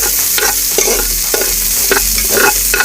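Food frying in a pan sizzles loudly and steadily while a utensil stirs through it, scraping and clacking in irregular strokes up close, with no voices.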